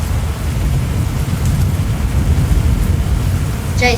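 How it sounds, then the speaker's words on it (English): Heavy rain pours steadily during a severe thunderstorm in tornado country, a loud, dense roar of downpour with low rumbling underneath that persists throughout, and a brief high squeal appears near the end. "Jeez, it's really raining."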